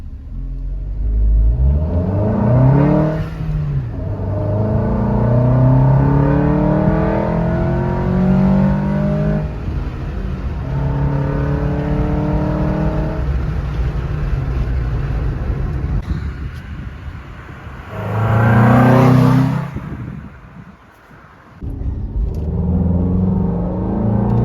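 A Maruti WagonR fitted with a performance air filter revs while driving on a road. The engine drones steadily and loudly close by, with repeated rises in pitch and a couple of brief gear-change dips, and no talking.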